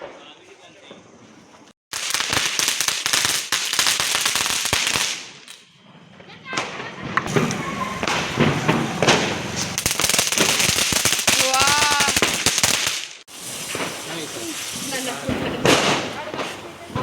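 Strings of Diwali firecrackers, bidi bombs and lavingiya, crackle in long, dense rapid-fire bursts, loud and close, separated by brief lulls with voices faintly underneath.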